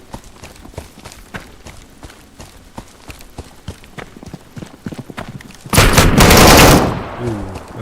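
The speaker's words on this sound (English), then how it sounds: "we've got a turret. That was absolutely a turret." Turret gunfire in the Deadside game rattles as a steady stream of distant rapid shots, then a loud, heavy burst lasting about a second hammers in close before fading.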